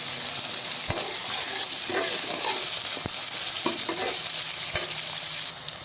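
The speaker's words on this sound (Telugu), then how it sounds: "ఫ్రై చేసుకుంటాం." Rava khichdi ingredients sizzle steadily in a hot pan while a spoon stirs them, with occasional metallic clinks of the spoon against the pan over a constant frying hiss, close and even throughout.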